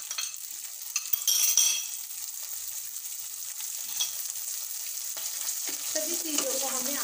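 Peas, cashews and raisins stirred into frying vegetable pulao in a pan: a continuous bright sizzle with scraping spoon strokes and a louder burst of stirring early on, heard up close.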